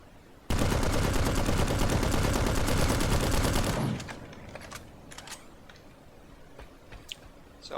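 Rapid automatic gunfire from a light assault weapon in the shooter game Planetside, a loud dense burst of shots lasting about three seconds, then fading into quieter scattered clicks and game sounds.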